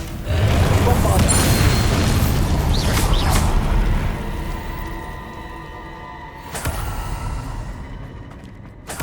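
A Bombarda spell explosion in Hogwarts Legacy erupts in a loud, heavy boom with rumbling debris that slowly fades, followed by a sharper crack and a lingering tail.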